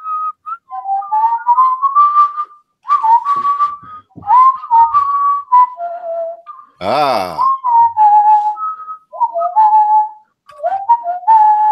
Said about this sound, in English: that whistling music